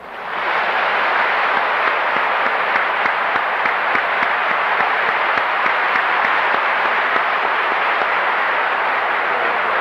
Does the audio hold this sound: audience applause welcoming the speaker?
yes